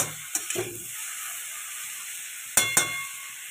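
Cabbage and chili frying in a pan for chowmein noodles, a steady quiet sizzle with two pairs of brief stirring scrapes, near and without talk.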